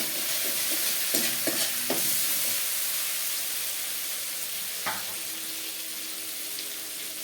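Whole spices temper in hot oil for a vegetarian ghugni, a continuous hissing sizzle with a few early clinks of stirring, then a single scrape later on, close by and without voices.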